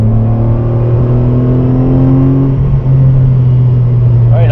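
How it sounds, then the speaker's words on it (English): A car engine drones and climbs in pitch as it revs hard from inside the cabin, loud and steady, with a brief dip before rising again and a voice talking over it. "Sweet engine. It just revs really well."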